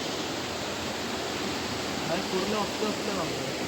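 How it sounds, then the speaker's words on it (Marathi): A village stream in Konkan flows in a steady, broad rush of water that continues throughout. A faint voice sits under it toward the end. "पाणी बघा खूप मस्त वाहत"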